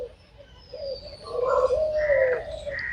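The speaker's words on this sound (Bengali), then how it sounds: "এখানে হচ্ছে দেশি ঘুঘু," A native dove calls from an aviary at Bangladesh National Zoo, giving a soft, rising-and-falling coo near the middle over a quiet outdoor background.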